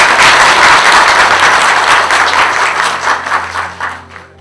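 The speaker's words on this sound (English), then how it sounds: "I ask you to applaud for her." An audience gathered at a book event breaks into loud, dense applause that carries steadily, then thins and fades out toward the end.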